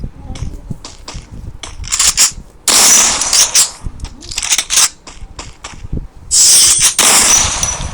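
Shotgun gunfire in the mobile battle game Free Fire, heard as loud, harsh bursts of blasts in several clusters across the stretch, with rapid sharp cracks in between.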